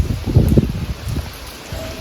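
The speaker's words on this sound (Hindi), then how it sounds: "देखो बारिश अच्छी चल रही है रात की" Rain patters steadily at night with soft, irregular drops and a low rumble of strong wind, fairly close and moderately loud.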